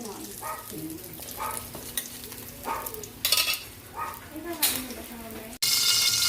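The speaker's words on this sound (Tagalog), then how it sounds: "Magigisa na tayo." Vegetables being sautéed with garlic in a hot pan for chop suey with sotanghon, a soft sizzle with repeated stirring scrapes, under quiet talk, ending in a louder burst of frying.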